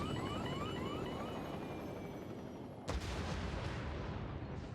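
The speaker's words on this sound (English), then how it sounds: "Helicopter sounds." Game sound from Crisis Core Final Fantasy VII Reunion in a snowy infiltration area: a steady dense rumbling roar with descending whining tones, like a helicopter, cut by a sudden sharp boom near the end.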